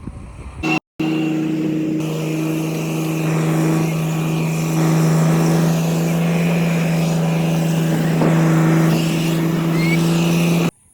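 A motorized boat carrying sand chugs with a steady, humming engine drone that holds for several seconds after a brief cut near the start.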